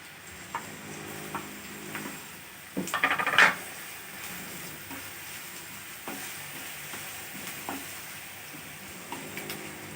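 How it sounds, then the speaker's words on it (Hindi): Onion with garlic and green chili paste fries in oil, a soft steady sizzle with occasional stirring and a brief scrape of the spoon against the pan, close and without voices. "प्याज और ये लहसुन मिर्ची को हम भून लेंगे।"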